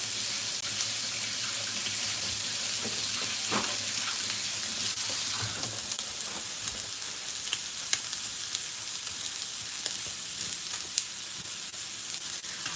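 A steak searing in a hot pan gives a steady, close sizzle and crackle throughout, with faint clinks and a low hum in the background.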